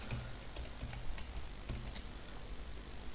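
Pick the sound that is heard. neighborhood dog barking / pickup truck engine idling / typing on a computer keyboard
typing on a computer keyboard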